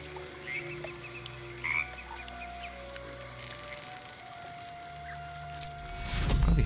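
Frog croaking in the Baldur's Gate 3 video game, a few short croaks standing out over a quiet ambient game soundscape, with a louder rustling swell near the end.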